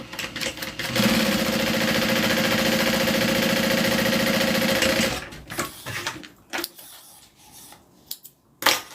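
A sewing machine top-stitches along the upper edge of fabric for a bag, running steadily and loud for about four seconds before stopping, then a few soft handling clicks and rustles.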